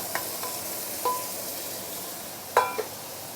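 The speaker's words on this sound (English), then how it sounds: "we want to saute all the fresh ginger, garlic, tauchu, fresh coriander roots, and also the salted black bean" Fresh ginger, garlic, tauchu, coriander roots and salted black beans sauteing in a pan give a soft background sizzle, broken by a few sharp metallic clinks and scrapes of a spatula, the loudest at about two and a half seconds.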